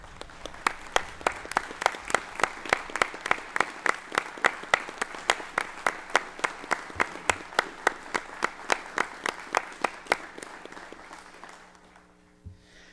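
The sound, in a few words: audience applause for Pastor Miles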